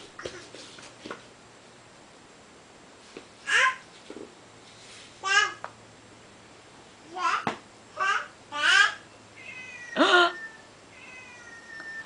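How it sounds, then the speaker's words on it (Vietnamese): A house cat meows several times in short, rising calls spaced across the clip, fairly close, with a small child's babble and other voices around them. "Con gì kêu vậy? Con mèo."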